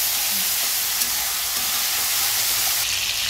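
Ginger and spices frying in a pan with a little turmeric, a steady, loud sizzling hiss that fills the whole moment without pause.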